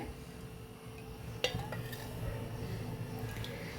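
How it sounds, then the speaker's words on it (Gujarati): A metal kadai is set down on a gas stove with a single sharp clank, followed by a low steady burner rumble and faint kitchen clatter. "ગેસ ઉપર આપણે કઢાઈ રાખી દીધી છે"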